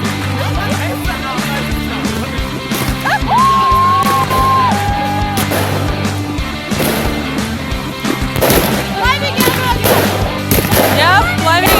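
New Year fireworks go off outdoors in a dense, continuous barrage of bangs and crackles, with a long whistling rocket rising through the din; people talk and call out nearby under the constant explosions.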